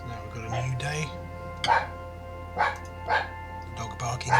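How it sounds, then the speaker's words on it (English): A dog barks in the background during a Minecraft game session, several distinct barks spaced a second or so apart, moderately loud, over a steady low hum and a voice talking. "The dog barking in the background."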